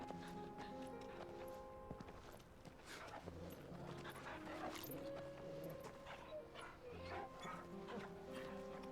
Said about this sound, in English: Dog noises.